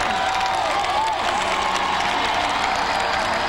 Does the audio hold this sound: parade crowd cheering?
yes